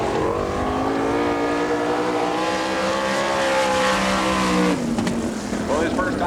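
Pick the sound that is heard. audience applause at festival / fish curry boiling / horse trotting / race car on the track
race car on the track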